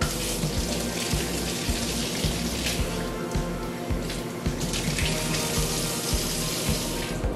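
A kitchen tap runs steadily for a cup of warm water for bread yeast, a continuous close splashing rush into a vessel with no talk.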